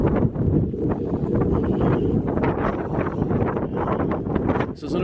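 Gusty night wind in the Barrens of central Nassau buffets the microphone with a continuous rough rumble, swelling and easing in uneven waves while faint rustling rides along underneath.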